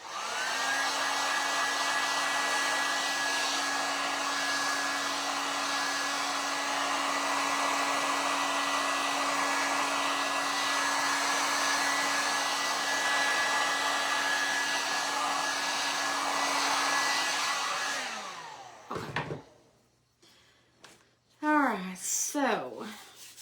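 A hair dryer blows steadily on a craft project, a loud continuous whine for about eighteen seconds before switching off, followed by faint handling noises.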